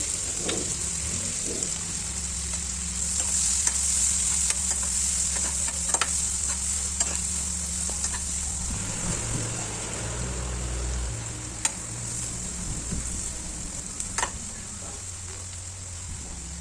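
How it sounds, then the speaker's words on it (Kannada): Onions and green chillies sizzle and fry steadily in hot oil in a pan, with repeated stirring scrapes and clinks running through the whole stretch, close and fairly loud with no talking. "ಅದೇ ಆಯಿಲ್ಗೆ ನಾನು ಇವಾಗ ಈರುಳ್ಳಿ ಮತ್ತು ಹಸಿಮೆಣಸಿನ್ಕಾಯಿ ಹಾಕಿ ಫ್ರೈ ಮಾಡ್ಕೊತೀನಿ."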